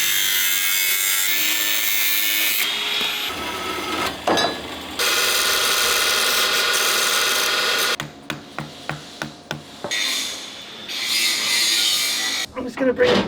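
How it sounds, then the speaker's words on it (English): A tube from a cooling system being cut through during a workshop rebuild, with long close rasping saw strokes, a quick series of short rhythmic cuts partway through, then more scraping, loud and heard without talk. "That's the point I want to cut off"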